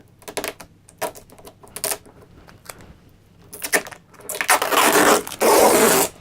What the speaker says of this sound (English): let's just peel all this crap off. These little bits of tape.